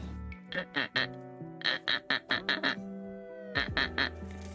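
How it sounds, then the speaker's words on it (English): Duck quacks come in quick clustered bursts of three to five, loud and nasal, with short pauses between groups and a low hum underneath. "Here's a duck noise for Tasma."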